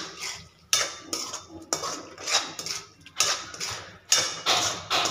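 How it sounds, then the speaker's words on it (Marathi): Paneer stirred in a metal pan for biryani, a spoon scraping and clanking against the pan in repeated rhythmic strokes, close and distinct, with no speech. "हलवून घ्यायचं पनीर"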